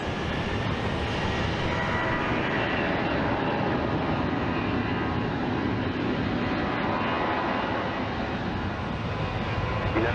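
A jet aircraft landing at Phoenix Sky Harbor airport makes a steady, loud, broadband roar of engines that holds throughout with no voices over it.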